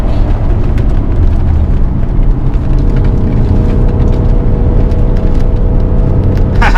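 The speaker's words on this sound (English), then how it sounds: "V8 pulling" Audi A6 with a 4.2 V8 and a manual swap pulls hard along an open road, a loud, steady low rumble that holds without a break for the whole stretch.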